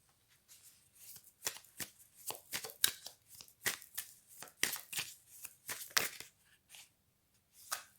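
Tarot cards being shuffled by hand nearby, a steady series of quick papery riffles and slaps in irregular bursts, fairly quiet with no speech.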